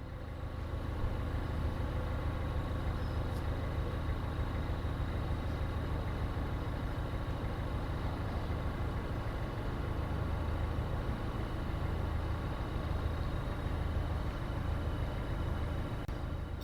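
A narrowboat's engine idles in a steady, low, continuous chug while it reverses back to moor near Banbury, even and moderately close throughout with nothing else breaking through.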